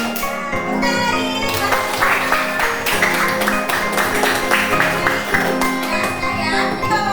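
A classroom group of teachers and children claps together in a quick, steady rhythm. Children's voices and a tonal backing run underneath the clapping throughout.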